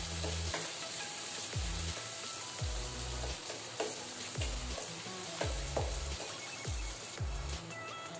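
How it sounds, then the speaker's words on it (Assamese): Ginger and garlic fry in hot oil in a pan for an aloo chop, a steady close sizzle punctuated by repeated dull thuds of a spatula stirring, with no talking. "এয়া আদা নহৰুখিনি দি দিছোঁ। এতিয়া মই এইখিনি এক মিনিটমানৰ কাৰণে ভাজি লওঁ"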